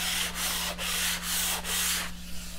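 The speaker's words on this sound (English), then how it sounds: "I've got 220 sandpaper here and just a block. And I'm just going to lightly sand it." Wood is lightly hand sanded with 220-grit sandpaper wrapped on a block, going with the grain: close, steady raspy strokes in an even back-and-forth rhythm, five passes in quick succession with no voices.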